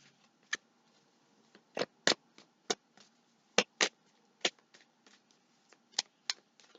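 Tarot cards being shuffled by hand: a run of crisp, close riffling snaps and soft papery flutters in uneven bursts, with no talk.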